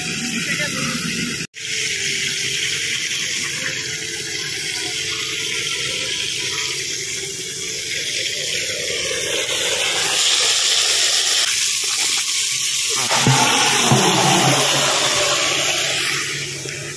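Tap water runs steadily into metal water pots being filled at home, a continuous loud hiss and splash broken by one brief dropout, with the pitch and fullness shifting as the pots fill.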